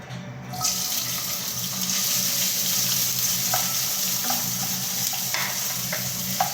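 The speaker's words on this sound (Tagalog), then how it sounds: "ang ating ginger, ginigisa-gisa na" Ginger sautéing in hot oil in a heated pan (kawali), steady close sizzle and hiss with a few faint clinks of stirring throughout.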